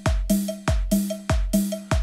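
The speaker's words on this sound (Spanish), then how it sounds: "Un pequeño ray que va pegando. Es tipo un platillo de bata" Electronic ride cymbal pattern for a cumbia pop beat programmed in FL Studio, heard alone as a loud, steady loop of sharp metallic hits layered with a tonal percussive hit, repeating in a quick, even rhythm.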